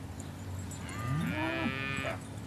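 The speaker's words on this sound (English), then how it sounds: "The cows that have been raised in the barn for 6 months will be turned out to pasture." A single drawn-out cow moo, close and clear over quiet rural background noise, as cattle kept in a barn for six months are turned out to pasture in a Polish village.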